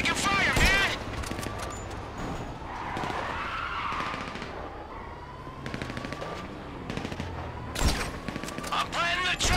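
Rapid gunfire bursts crackle through a GTA V shootout on a bridge in Port City, with loud broadband shots near the start and end over a continuous rumble of engines and skidding, and a voice speaking throughout.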